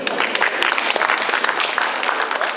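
Loud, close applause from an audience at a Francophonie festival celebration in Marseille honoring a writer, a thick continuous roar of clapping hands with crisp individual claps throughout.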